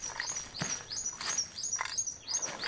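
Bird calls in a rainforest, a series of short, bright chirps and whistles repeating every half second or so, moderately close over a soft, steady background hiss of forest ambience.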